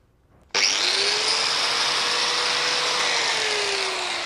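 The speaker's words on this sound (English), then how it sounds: "to scuff it up requires a little bit of tickling." A power tool starts abruptly and runs as a loud, steady whine while scuffing helicopter rotor blade straps before they are glued to a wooden root block, holding on without a break.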